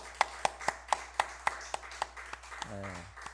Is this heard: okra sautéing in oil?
no